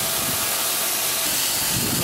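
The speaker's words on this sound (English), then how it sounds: "That's steam." Steady broadband hiss of steam venting from a train engine, loud and continuous throughout with a faint low rumble underneath and no talk.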